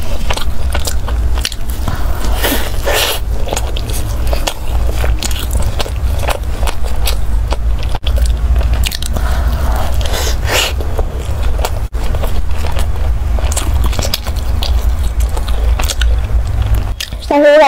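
Close, loud biting and chewing on a taro ball cake with a soft mochi outer layer, with repeated squishy, crackly mastication sounds and occasional scrapes throughout, and someone speaking at times.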